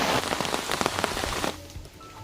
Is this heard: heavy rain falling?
yes